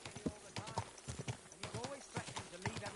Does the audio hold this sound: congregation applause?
no